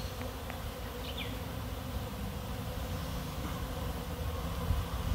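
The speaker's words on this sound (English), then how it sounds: "I don't know why there's so many bees out here." Dense, steady hum of a large swarm of honey bees around beehives outdoors on a breezy June day, a continuous buzzing drone with a few individual bees passing close by.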